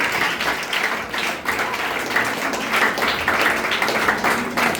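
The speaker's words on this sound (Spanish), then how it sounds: "Den un aplauso, Señor." A church congregation claps together during a sermon, a dense steady applause with rhythmic pulses that lasts throughout, loud and close.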